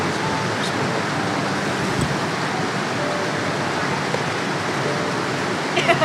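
Steady broadband rain hiss fills the scene evenly and moderately loud, a continuous wash with no breaks and no talking over it.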